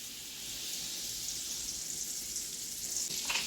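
Butter and ghee sizzling in a hot pan while making semolina halua, a soft, steady frying hiss that continues throughout at low volume.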